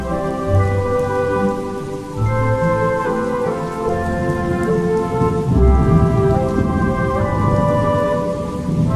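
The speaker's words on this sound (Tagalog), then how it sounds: "Ang kaniyang kulog ay dumadagundong." A thunderstorm pours heavy rain in a steady, dense hiss while low thunder rumbles and booms underneath in several rolling swells, loud and continuous throughout with no voices.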